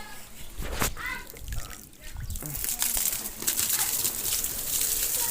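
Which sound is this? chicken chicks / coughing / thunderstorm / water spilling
water spilling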